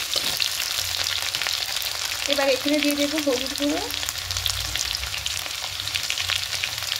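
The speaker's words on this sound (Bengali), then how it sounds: "এবার একটু হালকা করে সবজিগুলোকে ভেজে নেব" Vegetables fry in an oiled pan for a Bengali rohu fish curry, a constant close sizzling hiss running throughout while a person briefly speaks over it.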